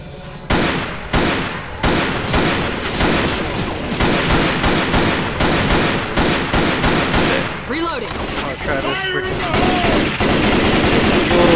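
A full-auto M16 in Left 4 Dead 2 fires long, rapid, loud bursts that run nearly the whole time, with brief pauses and other game noises mixed in.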